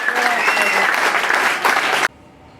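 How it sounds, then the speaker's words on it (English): An audience at a Stars In Their Eyes tribute show applauds a performer, with loud, dense clapping for about two seconds that stops abruptly. "Give her a massive round of applause."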